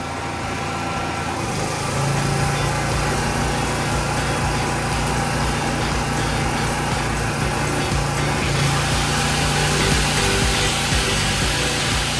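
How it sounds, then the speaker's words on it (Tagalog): An angle grinder runs on a PK8000i inverter generator, giving a loud, steady high-pitched engine drone with a constant whine that continues throughout. "sasabayan pa natin yung grinder"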